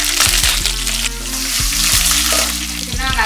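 Loud steady sizzling of dried red chillies and green chillies with mustard seeds frying in sesame oil for sambar tempering, continuous and close, with faint clinks from stirring.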